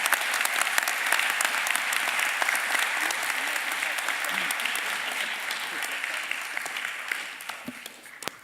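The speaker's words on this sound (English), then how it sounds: "Please give a round of applause for all of our graduates" Sustained applause from a large audience at a university health science commencement ceremony, steady and dense for the full stretch before tapering slightly near the end.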